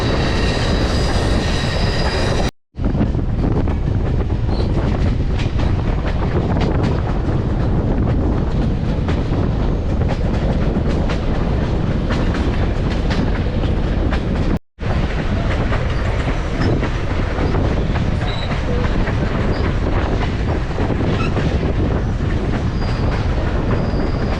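A train rolls steadily along the tracks at Jim Thorpe, close and loud, with rattling, clattering wheels and occasional squeals; two brief dropouts interrupt the constant rumble.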